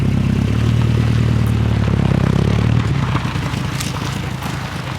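Chrysler Sebring convertible with a new exhaust system, engine running close by with a steady low rumble and some clatter, the tone dropping slightly near the end as it settles.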